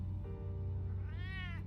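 A cat meows once in the Batman Telltale Series video game, a single clear rising-then-falling meow near the end over a low ambient hum, with no talking.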